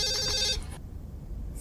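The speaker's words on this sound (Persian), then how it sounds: "تلفن داره زنگ میخوره" A telephone rings with a short electronic trill for about half a second, then cuts off, leaving low background hum.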